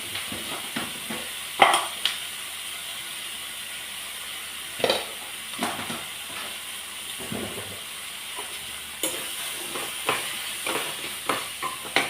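Ingredients frying together in a pan on low flame, a gentle continuous sizzle with intermittent scraping and clinks from stirring.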